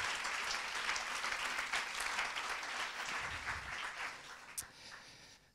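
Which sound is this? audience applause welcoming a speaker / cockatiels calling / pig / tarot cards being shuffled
audience applause welcoming a speaker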